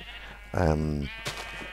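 A single sheep bleat from the game Minecraft, one loud wavering call lasting about half a second, followed by a short fainter sound over a steady low hum.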